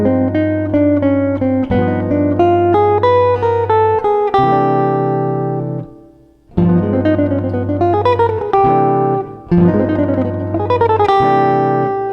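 Electric guitar lines in a fast picking style run fast and melodic, with rapid picked notes in phrases and a brief pause near the middle, played alone and prominent.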